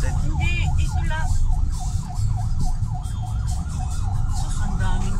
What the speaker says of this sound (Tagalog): Ayan, may ambulance pala.